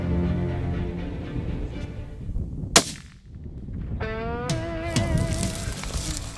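Rifle gunshot fired while deer hunting outdoors, a single sharp, loud crack that rings out briefly into quiet, followed by ambient outdoor sound and a tonal effect.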